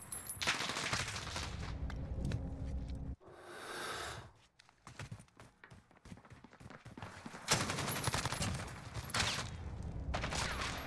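AK-74u gunfire in the Modern Warfare video game, loud rapid automatic bursts with a brief lull and a swoosh in the middle, then more sustained firing close up.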